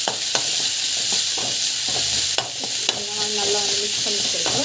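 Chopped tomatoes with salt sauté in a pan, a loud, close, steady sizzle broken by repeated utensil scrapes and taps while they are stirred.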